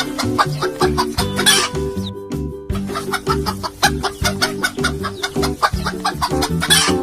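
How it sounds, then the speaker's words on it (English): A chicken clucks over and over in quick, uneven bursts, close and clear. There is a short pause partway through before the clucking starts again. "Chicken clucks."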